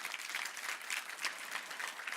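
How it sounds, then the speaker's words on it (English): A faint, steady round of applause from an audience at the opening of an arts summit in Namibia, dense clapping sustained evenly throughout with no speech over it. "Can we give them a round of applause"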